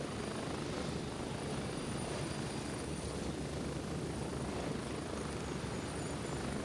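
Helicopter in the military shooter Gray Zone Warfare: a dense, steady rotor and engine roar from inside the aircraft, unbroken and constant throughout.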